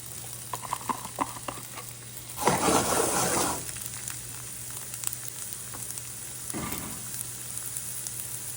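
Onions, garlic and jalapenos hit a hot pan in a brief loud sizzling burst, followed by quieter frying and a second short flare of sizzle a few seconds later.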